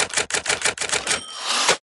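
Rapid keyboard typing while entering a text prompt into an AI image generator, a quick run of sharp key clacks followed by a brief pause and a final tap, close and fairly loud with no talk.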